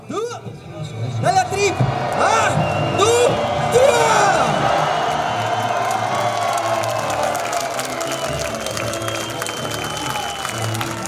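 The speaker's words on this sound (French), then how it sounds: "Le spectacle se termine devant une foule déchaînée qui acclame debout la star du jour." A crowd cheering a diabolo performer at an outdoor show, with whoops and shouts rising into sustained applause and cheering that continues at a steady loudness.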